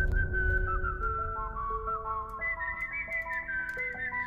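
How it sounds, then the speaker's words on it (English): Drumstep track build-up heard alone, with sustained synth tones stepping upward in a rising melodic line over a steady low rumble, layering and growing brighter toward the end. "So let's listen to the build-up."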